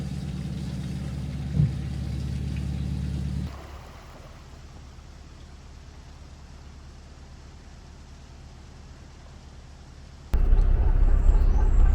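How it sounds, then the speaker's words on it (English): Low steady diesel throb of an older vintage Lister engine on a narrowboat cruising the Shropshire Union Canal, heavy and loud for the first few seconds, then quieter and steady, before swelling loud again near the end with no talk. "This narrowboat has a Lister engine."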